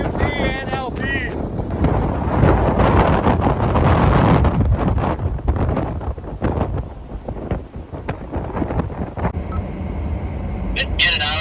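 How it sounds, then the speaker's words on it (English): Strong, gusty wind from a winter storm in western Michigan buffets the microphone in loud, roaring surges that rise and fall throughout, with a brief tonal sound near the start. "It is very windy here."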